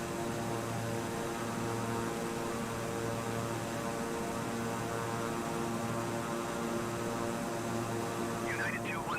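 Steady drone of a Boeing 747's engines during cruise in a flight simulator game, a continuous broadband roar with a low hum running the whole time.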